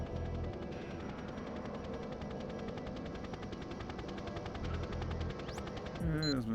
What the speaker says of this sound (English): Oh, I hear the helicopter.